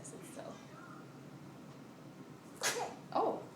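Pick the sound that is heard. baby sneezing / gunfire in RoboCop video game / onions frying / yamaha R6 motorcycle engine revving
baby sneezing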